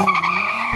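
An SUV and a Ferrari SF90 launching off a drag race start, a short loud burst of tire squeal and engine roar lasting under a second.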